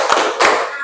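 A classroom group doing a tepuk santiang clap, two sharp, loud collective claps in quick succession, close and punchy.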